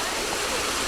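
A waterfall in the Imperial Palace East Garden in Tokyo pours in a dense, steady broadband rush, close and continuous with no break.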